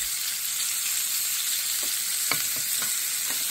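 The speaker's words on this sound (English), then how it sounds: "there's nothing quite like cooking up bacon in an old cast iron skillet" Bacon sizzles and crackles steadily in a hot antique Griswold cast iron skillet, a constant close hiss with a few soft taps of a utensil, no voices.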